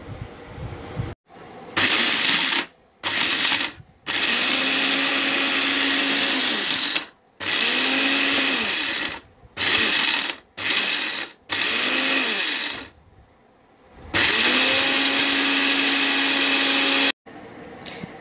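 An electric spice grinder whirs through whole biryani masala spices in loud bursts that start and stop repeatedly, with a steady motor whine that rises and falls between short pauses of silence.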